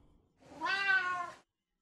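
A domestic cat gives a single drawn-out meow lasting about a second, close and clear against a quiet room, with nothing else audible.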